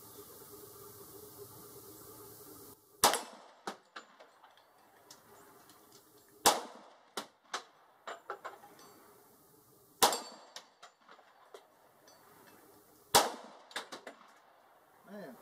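Pistol shots from a Tanfoglio EAA Witness 10mm fired outdoors, with four loud sharp reports spaced a few seconds apart, each followed by quieter clanks and rattles, after a stretch of steady background hum.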